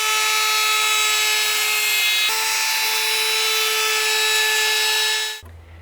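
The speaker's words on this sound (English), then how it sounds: "we're going to use a router to add a radius edge to the end of the deck boards" A router rounds over the ends of stone-look deck boards, its high steady whine running loud and close for about five seconds with a brief shift in pitch, then spinning down and stopping.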